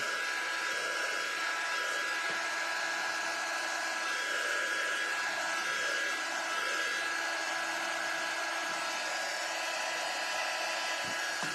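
A hair dryer blows steadily on a leprechaun gnome craft, drying glitter and Mod Podge on paper shamrocks; a constant whirring hiss runs the whole time with a faint tone, at moderate, even loudness.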